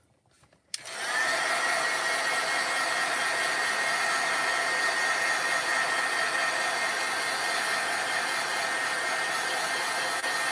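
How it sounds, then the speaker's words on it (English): A craft heat tool switches on and blows steadily at close range, a loud, even whoosh with a faint high whine that holds without a break, and no voices. "I'm going to hit this with the heat tool just real quick."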